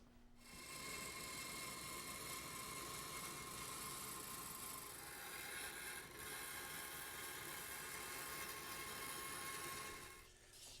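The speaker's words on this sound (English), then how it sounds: "we can take this plywood over to the bandsaw and cut out our curves" A bandsaw cuts curves in plywood in a woodworking shop, a loud, steady whining drone with a constant hum that runs nearly unbroken for about ten seconds before stopping.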